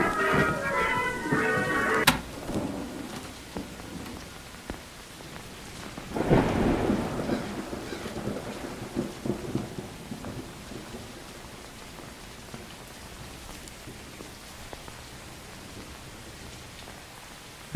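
A loud rumble of thunder rolls in midway through steady rainfall, heard during a storm while exploring a house, the downpour continuing as a soft hiss afterward; a brief musical sound opens the stretch.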